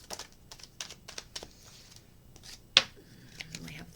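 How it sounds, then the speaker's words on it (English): A Rider-Waite tarot deck is shuffled and cards are pulled, giving a run of quick close flicks and taps, then one sharp slap of a card, with a little quiet speech toward the end. "now I'm going to pull some inner cards"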